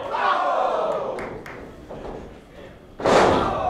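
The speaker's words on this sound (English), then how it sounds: "I don't know if the thud from the kicks is resonating at home as much as it is here" Hard kicks landing in an NWA USA wrestling match, heavy thuds ringing out over a loud arena crowd, with a sharp slam near the end and the crowd surging.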